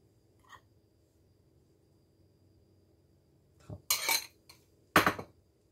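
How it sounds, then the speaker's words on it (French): A spoon clinks and scrapes against a bowl while flour is stirred into a foamy sourdough starter, with a faint tap at first and then a few louder bursts of scraping near the end. "On brasse de nouveau pour bien intégrer toute la farine. On racle les parois."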